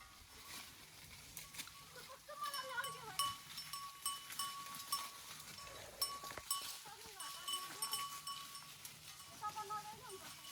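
Several goats bleat repeatedly, some nearer and some farther off, with faint voices and scattered clatter in the background.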